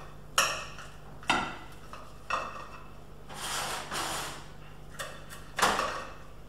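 Knife slicing through a crispy cauliflower-base vegan pizza with kale and mushroom, giving several sharp crunchy crackles at irregular intervals and a longer grinding scrape in the middle, close and fairly quiet.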